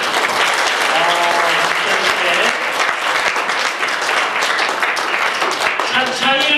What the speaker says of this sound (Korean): 친구들 예쁘게 하라고 어른들이 박수 쳐주실 거예요